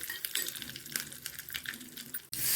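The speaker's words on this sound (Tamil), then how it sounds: "எண்ணெய் சூடேறிச்சு. கடுகு போட்டுக்கலாம், கருவேப்பிலை போட்டுக்கலாம்." Mustard seeds and curry leaves crackle and sizzle in hot oil for a bottle gourd chutney tempering, a steady close spitting hiss with scattered pops throughout and no talking.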